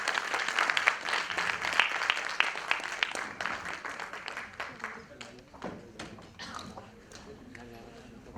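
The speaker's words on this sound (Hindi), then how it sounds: "पुरजोर तालियों में इस्तकबाल करें" An audience at a poetry recital in Pune applauds, dense clapping at first that gradually thins into scattered claps, with voices murmuring underneath.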